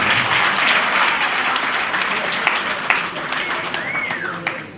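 Wedding guests at a civil ceremony applauding the bride, sustained close, loud clapping with a voice or two underneath.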